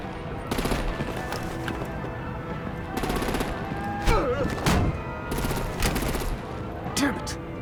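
Artillery and gunfire in Batman: The Enemy Within video game, with repeated bursts of rapid machine-gun fire and sharp explosive impacts, loud and close, mixed with shouted voices between volleys.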